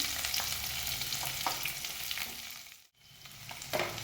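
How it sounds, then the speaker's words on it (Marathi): Chopped onion frying in hot oil with cloves and cardamom for kurma puri, a steady close sizzle with occasional stirring scrapes and one brief dip to near silence before the crackle resumes. "कांद्याला पण चांगला असं परतून घेऊ"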